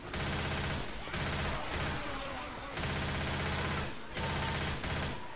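Sustained automatic gunfire from the Left 4 Dead 2 video game, dense rapid bursts of shots that run almost continuously, loud and close, with brief gaps between volleys.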